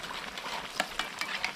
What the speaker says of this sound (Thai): เราจะทอดกล้วยทอดของเรานะครับหรือกล้วยแขกนะครับให้เขาสุกเหลืองกรอบเลยนะ